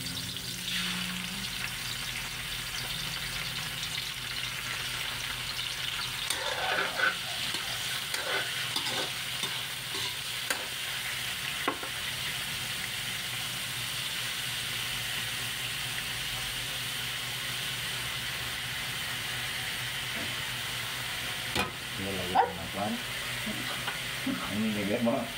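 Squid sizzles steadily in a hot pan for ginataang pusit while a utensil stirs it now and then, giving occasional clinks and scrapes over the constant close frying hiss.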